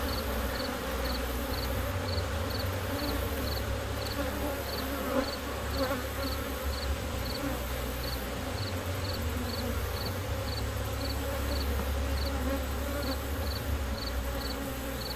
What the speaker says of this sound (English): There certainly is a ton of bees